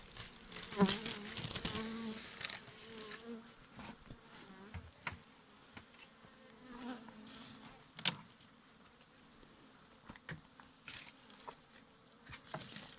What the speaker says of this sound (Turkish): Evet arımız salkımda şu anda.